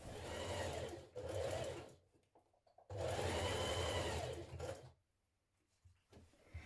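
A sewing machine basting along the bottom of dress panels, running in two loud close bursts with short pauses between and a quiet stretch afterward.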